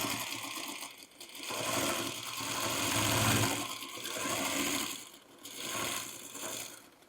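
A sewing machine stitches fabric while piecing traditional quilt blocks, running in loud, steady mechanical bursts with short pauses between runs.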